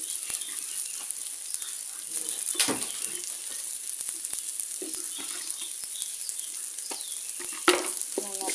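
Moringa leaves fry in a pan while a spoon stirs them, giving a continuous soft sizzle broken by scraping strokes and clicks of the utensil against the metal, close and fairly quiet.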